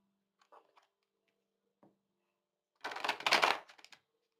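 Tarot cards being shuffled by hand, a few faint soft taps and flicks followed by one dense riffling burst of close card noise lasting about a second, with no talk.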